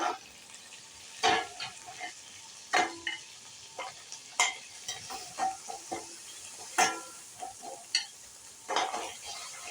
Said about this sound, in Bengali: মাংসগুলো হালকা করে ভাজা হয়ে গেছে